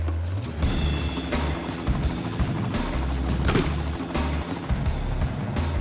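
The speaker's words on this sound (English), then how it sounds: "We use a net gun fired out of a helicopter." A helicopter used to net-gun elk in a Canadian park in winter roars loudly and steadily overhead, its engine and rotor noise filling the scene with a few sharp bursts.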